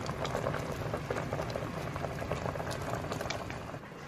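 Figs boiling in a pot for fig jam, a dense, steady bubbling and popping, close and fairly quiet, with no talk.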